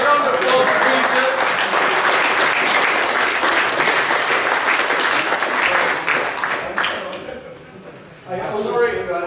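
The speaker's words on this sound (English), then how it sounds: "Round of applause for Peter." Audience applause after a talk at an event on surface decoration for leather, a steady dense clapping that thins near the end as a voice breaks in briefly.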